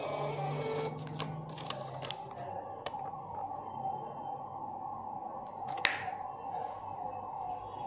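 A billing machine prints a receipt header and footer, giving a steady mechanical whir with a few brief clicks, fairly faint and with no talking.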